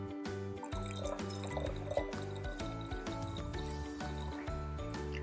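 Fizzy kombucha starter tea poured into a vessel, giving a steady gurgling, bubbly liquid flow with rapid irregular glugs, close and fairly quiet, with no talk over it.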